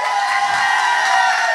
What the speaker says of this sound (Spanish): Aplauso, por favor, para mi Sifu.